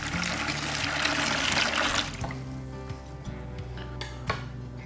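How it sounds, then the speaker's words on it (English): Boiling water poured over brown sugar and kosher salt for a chicken brine, a steady rushing splash that stops about halfway, followed by light clinks and stirring. "the first thing I'm going to do is start by adding a couple of cups of boiling water"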